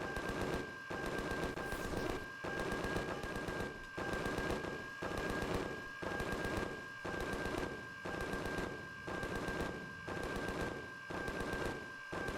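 Turret gunfire in Empyrion Galactic Survival Alpha 11.5, sustained rapid automatic bursts of roughly a second each, separated by brief pauses, loud and repeating regularly over a steady tone.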